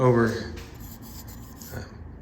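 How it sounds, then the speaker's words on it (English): Rough rasping scrapes of sandpaper on a painted metal bicycle frame, a strong stroke at the start and then quieter, steady rubbing. "So I'm sanding down through to the yellow"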